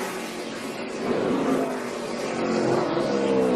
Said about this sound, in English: Here comes Brennan Poole all over the back bumper of that 17 of Chris Buescher.